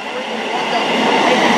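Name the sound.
East Midlands Trains HST passing through Luton Airport Parkway station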